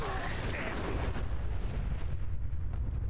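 A mini nuke detonates in Fallout 4, a dense, sustained low rumble with bursting crackle that fills the whole moment and slowly thins out, loud and close, with a faint voice mixed in.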